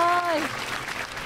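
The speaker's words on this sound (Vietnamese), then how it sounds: "vỗ tay lớn lên nào" A crowd at a village family gathering breaks into applause just as a short tonal sound fades, followed by a thin, scattered clapping that stays fairly quiet and soon thins out.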